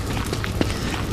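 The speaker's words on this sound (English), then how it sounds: "That's the sound of spiders coming to attack me." In the Don't Starve: Reign of Giants video game, spiders coming to attack make a brief rush of soft, scurrying patter over a continuous rumble, with a few light thumps.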